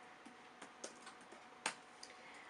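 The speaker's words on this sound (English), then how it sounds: "I'm going to finish typing this before I can think" Computer keyboard typed in short, irregular bursts of faint clicks, with one sharper keystroke standing out, quiet and close with no talking.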